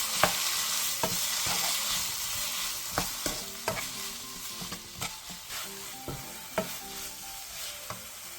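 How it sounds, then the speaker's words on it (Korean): Aged kimchi stir-fried in an oiled pan over medium-low heat with diced ham, green onion, minced garlic and sugar: a steady sizzle broken by sharp, irregular spatula taps and scrapes, close and alone. "중약불에서 5분 정도 볶아 김치를 어느 정도 익혀주세요"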